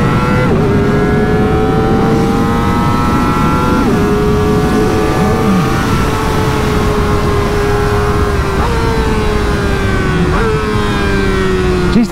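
A Graves Motorsports Kawasaki ZX-4RR engine screams close up at high revs on a race track, with auto-blipper downshifts dropping the pitch in several steps under loud wind roar.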